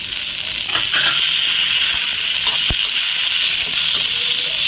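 Mint and masala spices sautéing in a hot pan give a steady, loud sizzle and hiss, with a few soft stirring scrapes breaking through.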